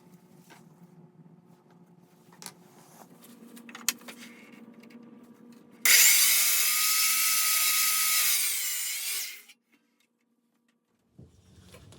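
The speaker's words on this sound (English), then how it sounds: "I cut one side first and then use that as a template for the opposite side." A power saw cutting one side of a wooden picture frame, preceded by quiet handling clicks, then a loud steady buzzing cut lasting about four seconds before it stops abruptly.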